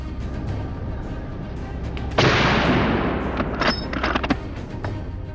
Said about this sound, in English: A quick shot, and it was down.